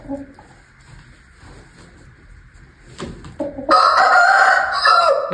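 An Aseel rooster crows loudly and close by near the end, with a few soft clucks and low rustling in the quieter stretch before it.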